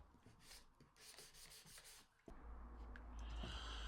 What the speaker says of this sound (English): So I'm just going over it again, sanding.